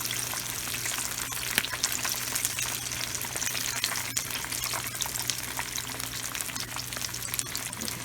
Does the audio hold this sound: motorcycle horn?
no